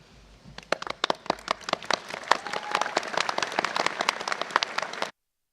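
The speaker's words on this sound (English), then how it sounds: "Graduates, please turn round and join us in a round of applause for those who have made this day possible for you." Sustained audience applause at a Swansea University graduation ceremony, a dense steady patter of many hands clapping in a large hall for about five seconds before ending abruptly.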